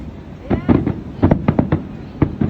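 Rapid bursts of fireworks at the Koga fireworks festival grand finale, a dense run of booming explosions in quick succession, loud against crowd noise and voices talking.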